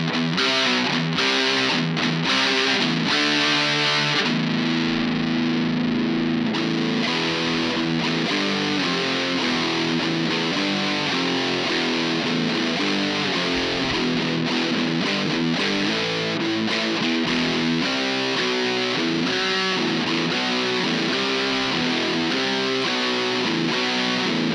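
Electric guitar with a high-output DiMarzio pickup played through a Leo Jaymes 5 watt amp, a loud, dense fuzzy distortion with sustained chords and riffs ringing continuously throughout.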